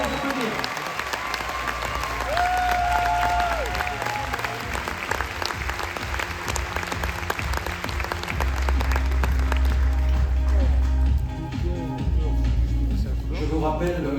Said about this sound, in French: Vous allez applaudir.